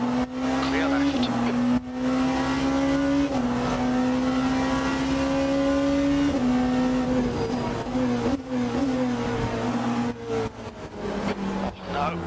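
Porsche 963 race car engine in a racing game, a steady loud drone that holds pitch and then drops through gear shifts, with a driver talking over it.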